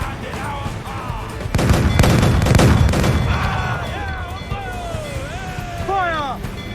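Ship cannons firing in the pirate naval combat of Assassin's Creed IV: Black Flag, a heavy rolling volley of booms over sea and battle ambience, with shouted crew voices and swooping in-game sounds layered on top.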